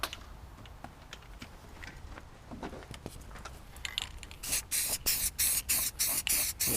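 An aerosol spray can lays down paint in short, hissing bursts with overspray, first a few scattered taps and faint sprays, then a rapid run of loud, evenly spaced pulses over the final seconds.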